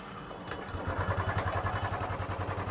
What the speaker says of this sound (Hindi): देखिए, हमने गाड़ी स्टार्ट कर दी है